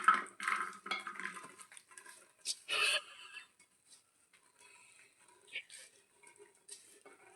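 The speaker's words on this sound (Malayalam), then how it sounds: "ഇത് 5 ലിറ്ററിൻ്റെ കുക്കറിലാണ് ഞാൻ ഇപ്പോൾ ഈ ചക്ക ഇടുന്നത്." Chunks of jackfruit go into a 5-litre pressure cooker with a burst of clattering metal and knocking at first, then quieter scattered taps and handling noises.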